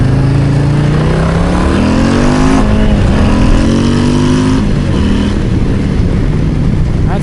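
A Harley-Davidson Low Rider ST motorcycle accelerates hard, its loud engine note climbing in pitch through the gears and staying close and continuous throughout.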